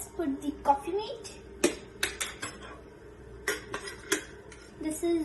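A spoon stirs coffee and Coffeemate in a cup, giving a series of bright, close clinks against the cup in short irregular bursts, with a voice murmuring underneath.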